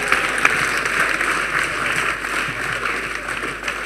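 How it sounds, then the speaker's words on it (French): A church congregation clapping together in rhythm at a French-language worship gathering, steady continuous applause-like clapping filling the room for several seconds. "Oui, acclamez. Clap."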